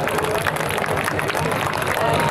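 A crowd at a Sofia air show claps and cheers to greet the aircraft crews, dense steady applause with a voice speaking over it.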